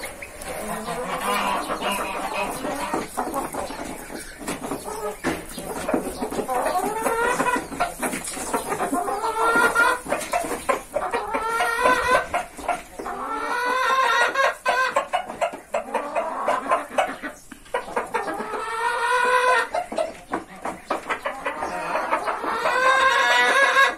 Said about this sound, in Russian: Его гусыньки все по гнездам сидят.